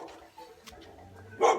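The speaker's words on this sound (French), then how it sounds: "je vous présente le chien du voisin" A neighbour's dog barks once, loud and close, after a stretch of quiet indoor background.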